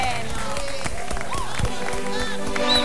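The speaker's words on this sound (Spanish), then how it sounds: "Fuerte el aplauso." Guests at a wedding celebration give loud applause amid a lively crowd. Voices and excited chatter ring over the clapping throughout the roughly three-second stretch.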